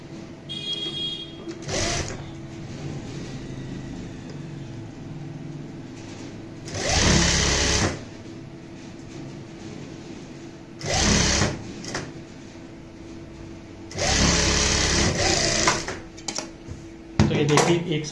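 A sewing machine stitches a blouse seam in several short whirring bursts of a second or two, separated by quieter pauses where a person talks.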